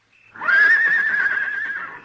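A horse gives a single long whinny, clear and fairly close, holding steady before trailing off.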